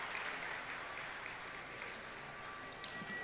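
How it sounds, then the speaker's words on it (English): A crowd at a women's college basketball game claps and cheers in a steady, dense wash of applause that stays fairly faint and distant throughout. "Round of applause for"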